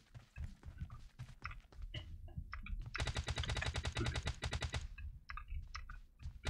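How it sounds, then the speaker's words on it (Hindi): Rapid automatic gunfire in PUBG Mobile Lite, a sustained burst of quick shots at moderate distance preceded and followed by scattered single cracks. "अबे कौन चला रहा है गोली?"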